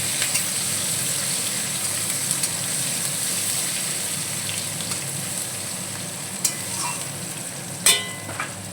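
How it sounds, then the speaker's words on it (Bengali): Chopped onions frying in a pan for a bhola fish curry, giving a steady, close sizzle with a few faint utensil taps and no speech. "পেঁয়াজটা ভাজা হচ্ছে পেঁয়াজ ভাজা ভাজা হয়ে গেছে"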